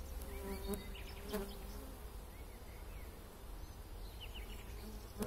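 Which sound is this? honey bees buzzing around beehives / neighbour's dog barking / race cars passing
honey bees buzzing around beehives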